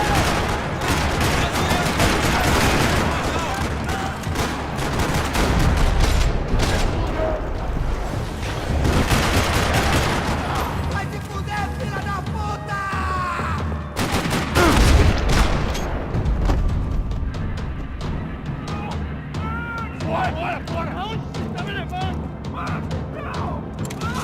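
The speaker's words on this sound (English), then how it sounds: "Another parking lot rattling with gunfire." Dense, continuous gunfire in the video game Max Payne 3 on PC, a parking lot shootout with rapid bursts and booms, loud and chaotic, with voices and effects mixed in.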